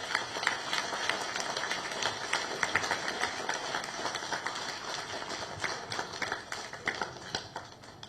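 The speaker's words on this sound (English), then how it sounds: "So can we have a huge round of applause to all the students?" An audience claps for students honoured for their JEE 2025 results at a Narayana institutions ceremony, a dense, sustained burst of many hands at moderate loudness.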